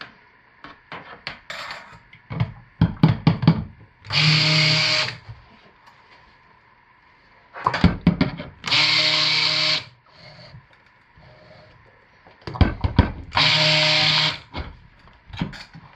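A stick blender buzzes in three short bursts of a few seconds each, mixing a cherry lemonade fragrance batch, separated by clattering, tapping and handling noises nearby.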